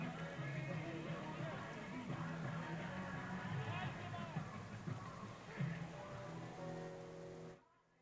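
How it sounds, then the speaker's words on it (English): Rain falls steadily at a minor league baseball game between the Auburn Doubledays and Niagara Power, a continuous wash of patter under a broadcaster's voice before it cuts off near the end. "The rain has gone a little too much once again here inside Niagara"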